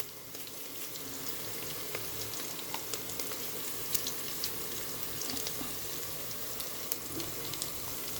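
Ginger garlic paste and asafoetida frying in oil in a pan for drumstick dal, a steady, moderately faint hiss dotted with small pops and crackles and no talk.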